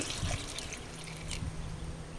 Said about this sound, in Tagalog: Dagdagan ko ng tubig.